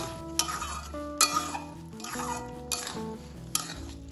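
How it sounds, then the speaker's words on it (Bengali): Cooked rice being mixed with pieces of fried egg in a pan: close scraping stirs and light metallic clinks of the spoon, with music playing underneath. "ডিমটার সাথে ভালোভাবে মিশিয়ে নিলাম।"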